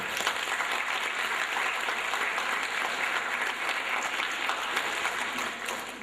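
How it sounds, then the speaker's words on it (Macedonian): Steady applause from an audience for school folk dance performers at a commemoration event in Delčevo, dense and continuous, easing slightly at the end. "Да ги наградиме уште еднаш со еден огромен аплауз"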